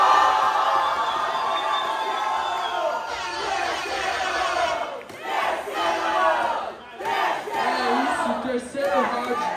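A rap battle audience shouts and yells together in a loud, sustained roar, swelling and dipping in rhythmic bursts with no single voice standing out.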